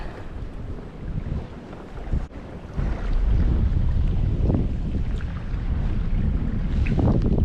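Wind rushes across a kayak on a lake during December trout fishing, a constant buffeting roar on the microphone that grows louder and heavier partway through, with occasional low thumps and water movement.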